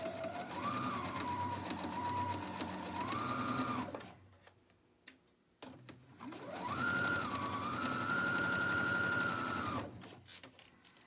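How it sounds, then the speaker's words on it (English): A sewing machine stitches a quarter-inch seam on a fabric surgical cap, whirring loudly in two long runs with a brief pause and a few clicks between them, no voices. "For this, I use my needle centered. So we'll just Do like a 1/4 inch seam all the way around."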